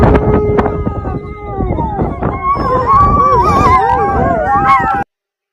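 Several street dogs howl and wail in long rising and falling cries mixed with a few barks, close and loud, while someone talks over them.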